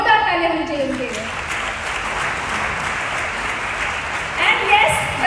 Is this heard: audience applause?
yes